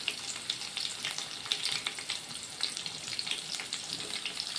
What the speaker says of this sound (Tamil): எண்ணெய் சூடானதுக்கப்புறம் கொஞ்சமாக கடுகு, உளுந்து, கடலைப்பருப்பு போட்டு கடுகு நல்லா பொரியட்டும்.